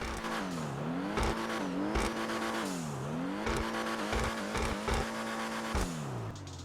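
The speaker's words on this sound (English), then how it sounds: "let's give it some gas and do a sound test." Dewbauchee Rapid GT X engine in GTA Online revs repeatedly, climbing and falling in pitch several times in a row, loud and close throughout with no talking.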